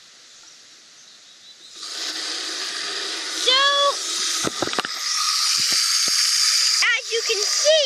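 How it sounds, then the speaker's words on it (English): Water gushes and hisses as it is poured into fertilizer, foaming into a sudsy liquid, with a steady rushing pour, a few sharp knocks and squeaks, and a person talking over it. "when I'm putting the water in with the fertilizer, it turns into a liquid, and it's a very sudsy liquid"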